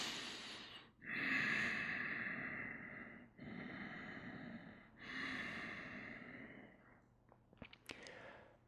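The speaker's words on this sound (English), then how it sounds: "Breathing." Slow, audible breathing during a seated forehead-to-knee yoga pose: long airy inhales and exhales in about three drawn-out breaths, close and steady, with a few soft clicks near the end.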